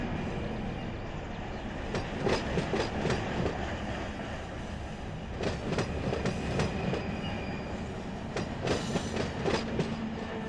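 A train rolls downhill on a slight grade of just under 1%, with continuous rumbling and rhythmic clickety-clack of wheels over rail joints in repeated bursts, steady and close.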